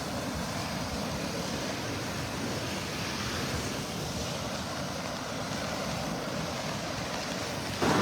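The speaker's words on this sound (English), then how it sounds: "Looks like the waves might be picking up a little bit here since we started." Ocean waves wash steadily onto a beach in North Naples, Florida, on a rainy morning, a continuous roar of surf mixed with wind rumble that holds an even level throughout.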